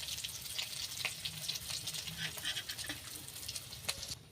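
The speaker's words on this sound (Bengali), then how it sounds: "পরেরগুলো এইভাবেই ভেজে নেব।" Potato rolls fry in hot oil over low heat, giving a steady close crackling sizzle with scattered pops throughout.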